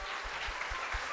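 A church congregation applauding during a morning service, with a brief, dense wash of clapping running steadily over a faint low rhythmic thump.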